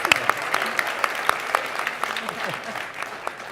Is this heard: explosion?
no